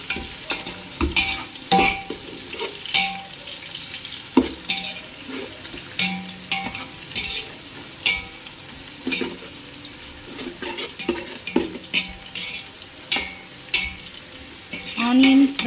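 Two sliced onions sizzle in oil for chicken biryani, punctuated by frequent sharp metal scrapes and clinks of a spatula stirring against the pan, close and continuous with no talking.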